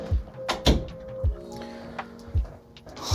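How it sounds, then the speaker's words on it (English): A door pulled closed in a small room, a handful of dull thuds and knocks with a squeaky latch rattle between them, close and fairly loud. "close the door behind me."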